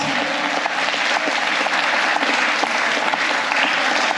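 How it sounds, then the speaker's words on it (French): Steady, dense applause from a crowd fills the whole stretch, continuous and fairly loud without pause. "Merci à vous sur vos applaudissements."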